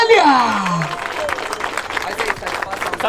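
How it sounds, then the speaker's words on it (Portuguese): Crowd applause after a hip hop rap battle at a Brazilian tour final in Barueri, opening with a sliding whoop or shout before dense clapping and crowd noise fill the rest, with voices mixed in. "Palmas pra essa batalha."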